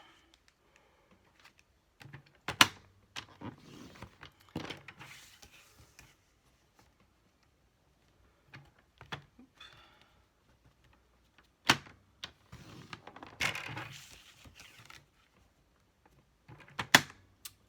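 Scattered sharp clicks, scrapes and sliding sounds come in short bursts with quiet gaps between, a blade scoring paper on a paper trimmer at 2-inch marks for box making.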